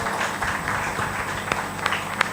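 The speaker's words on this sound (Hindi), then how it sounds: "ताली बजा दीजिए महान भक्त" Audience at a spiritual discourse clapping together, a steady dense patter of applause with a few sharper individual claps standing out.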